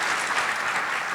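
Dense applause from a crowd, steady and sustained throughout, a broad wash of many hands clapping at once.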